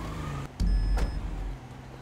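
Car driving in GTA Online, a steady in-game engine and road rumble with a brief louder surge partway through, close and continuous with no talk.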